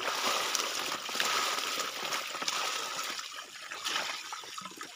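Water rushing and splashing steadily while a pond is being drained, a continuous close, fairly loud outdoor gush with faint voices in the background.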